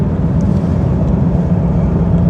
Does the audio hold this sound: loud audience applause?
no